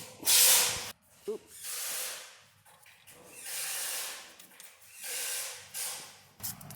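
Fluid is pumped into a 2010 Nissan Frontier transfer case in several close hissing, spraying bursts, about four in all, separated by quieter gaps.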